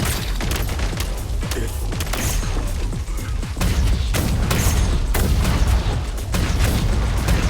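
Explosions and gunfire in Genshin Impact burst out as a chaotic run of booms and sharp pops, loud and dense through the whole stretch.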